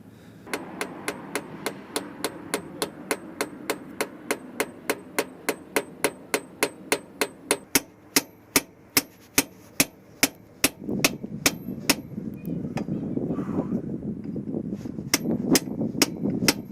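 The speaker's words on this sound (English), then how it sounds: "So now all that's left to do is to hammer in this pin" Sharp metallic hammer blows drive a pin into the gear shifter linkage of a Honda Civic Aerodeck in a steady rhythm, roughly thirty strikes, gradually spacing out toward the end over a rising background rumble.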